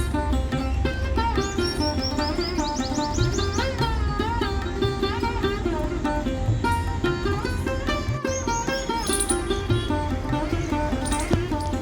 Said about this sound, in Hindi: तो ये एक शक्करखोरा है, पेड़ के ऊपर बैठा है।